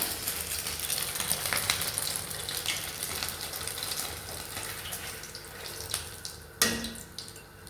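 Osban, Tunisian stuffed sausage, frying in hot oil, giving a steady, dense sizzle with bubbling throughout, and a sharper spit or crackle near the end.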